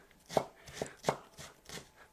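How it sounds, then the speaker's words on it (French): A knife slices vegetables finely for Korean dalgyal mandu, producing four or five crisp, close chopping taps at an uneven pace with faint rustling between strokes. "c'est de découper les légumes très très fins"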